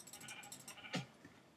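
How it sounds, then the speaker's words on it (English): A sheep bleats in the video game Minecraft, one short bleat close by over quiet game background sounds. "I hear another sheep"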